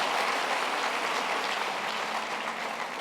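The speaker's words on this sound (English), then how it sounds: "Another hand of applause, please." Audience applause at a university graduation ceremony, a dense, sustained wash of clapping from a large crowd that holds steady throughout and fades slightly near the end.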